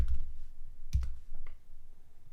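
Keys tapped on a computer keyboard while a zip code is entered during an online store checkout: a few soft, scattered clicks, quiet and close, with no talking.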